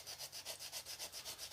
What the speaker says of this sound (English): grab yourself quite a coarse file, like this. Okay, and just clean up this bottom just to flatten it all out.